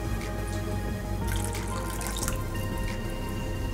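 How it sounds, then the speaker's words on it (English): Water is poured into a pan of drumstick curry gravy, a close, steady splashing pour with a brief louder burst midway, heard alone without talk. "Little more water I'll add."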